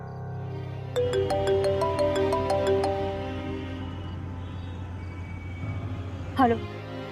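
A phone rings during a call, playing a melodic ringtone of repeated bright tones for about two seconds that then fades out, followed near the end by a short rising tone over a low background hum.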